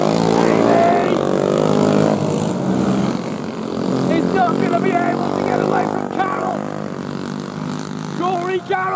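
Senior four-stroke modified race cars accelerate hard down the back straightaway of a track, a loud sustained engine roar with shifting pitch under continuous race commentary.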